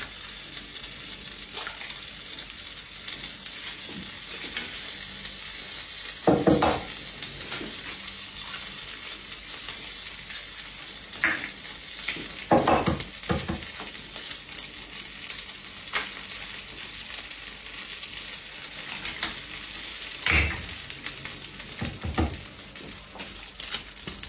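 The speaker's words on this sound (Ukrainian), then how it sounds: "наше масло вже розтопилось, тому б'ємо яйця і кидаємо їх смажитись" Eggs sizzle and fry in butter in a pan, a continuous crackling hiss with a few louder clattering knocks now and then.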